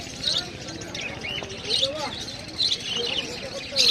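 Cockatiels chirp in short, high, repeated calls among other caged birds at the Serampore animal and bird market, while someone talks over them nearby.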